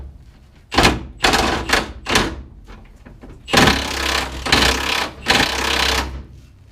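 A noisy 8 3/4 rear end on a 1966 Dodge Charger is spun by hand, giving loud grinding, clunking bursts in repeated uneven pulses, close up.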